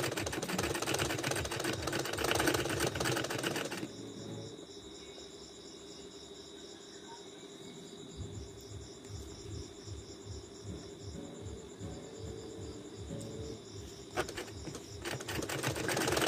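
Sewing machine top-stitching a blouse sleeve, a close, steady rapid needle chatter running in two stretches with a brief pause between, alongside a constant high insect-like chirr.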